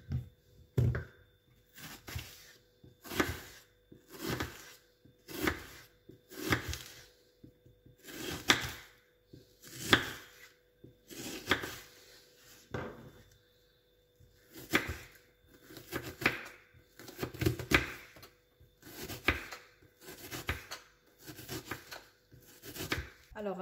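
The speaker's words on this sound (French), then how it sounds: "Je vais commencer donc par le couper en plusieurs petits morceaux." A knife chops a peeled, washed onion into small pieces on a board, striking in steady, evenly spaced strokes that come in short bursts with brief pauses between them, close and crisp throughout.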